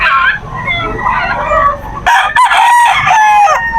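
Fighting roosters at a pet market in Bocaue crow loudly and close, several overlapping calls in a row, with a burst of sharper crowing and clucking in the second half.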